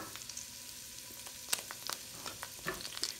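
Peppers hiss softly in melted butter in a hot skillet, a quiet, even sizzle with scattered sharp pops and crackles.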